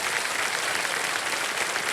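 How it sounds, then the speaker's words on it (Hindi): Studio audience applause on the Hindi TV quiz show KBC, a dense, even burst of clapping filling the room, steady throughout with no voices on top. "ताली बजती रहे"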